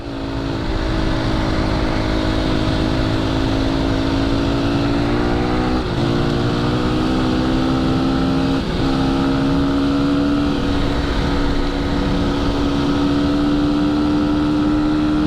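A Christini AWD 250 all-wheel-drive dirt bike with a big wheel kit rides a muddy single track, its engine droning loudly and steadily with rising revs and brief dips as the rider shifts, close and continuous.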